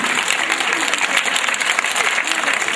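A crowd at a girls' school sports day applauds in a steady, continuous roar of clapping throughout, fairly close and even in loudness.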